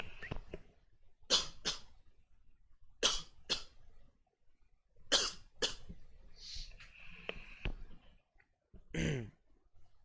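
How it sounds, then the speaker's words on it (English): A few short coughs close to the microphone in an otherwise quiet room, spaced out with brief pauses and small mouth sounds between them. "I need to cough"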